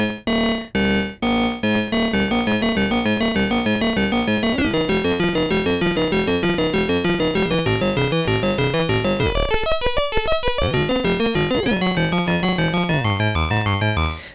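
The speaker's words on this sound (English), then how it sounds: "And I can even set up an arpeggiator here." Synthesizer arpeggiator cycling rapid notes through an FM modulation oscillator, bright and buzzy with a steady stepping pattern and shifting timbre, loud and unbroken after a few opening stabs, with a brief choppy stutter near the end.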